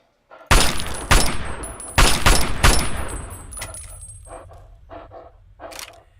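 Four loud, close gunshots from Fallout 3 ring out at uneven intervals with a lingering echo, followed by softer clicks and clattering, likely shell casings or reloading.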